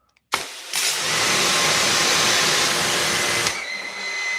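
A Maxflow DDM pressure washer fitted with a 15-degree nozzle starts abruptly and runs with a loud, steady roaring whine for about three seconds, then drops to a lower hum.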